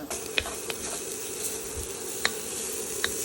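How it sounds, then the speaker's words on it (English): Spices toasting in a hot pan for a one-pot Mexican quinoa give a steady soft sizzle, with occasional light clicks of a spoon scraping and stirring, no voices. "we're going to toast those spices in the pan for about 1 minute"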